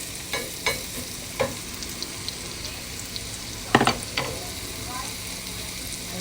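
Yogurt sauce for shish barak simmers in a pot, a soft continuous bubbling and sizzle punctuated by occasional stirring clinks and scrapes of a spoon against the pot.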